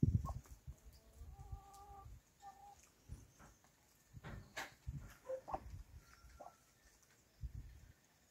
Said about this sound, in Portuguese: O galo tá ali, pessoal, mas tá meio cismado.